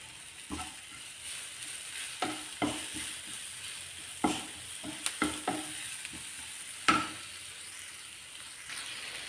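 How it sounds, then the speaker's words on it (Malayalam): Chili powder and spices roasting in a pan, a soft continuous sizzle punctuated by irregular scraping stirs of the spoon against the pan, close and fairly quiet. "മുളക് പൊടി എല്ലാ അതിൻ്റെ പച്ചമണം ഒന്ന് മാറുന്നിടം വരെ നമുക്കത് മൂപ്പിച്ചെടുക്കാം"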